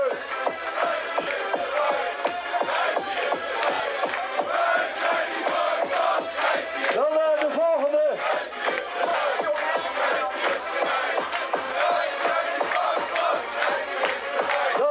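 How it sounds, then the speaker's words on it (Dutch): A crowd at a football club championship celebration in Scherpenzeel cheers and chants loudly, with steady rhythmic clapping throughout and a brief dip in the middle. "ik zou een enorm applaus willen hebben voor een aantal figuren hier binnen de club"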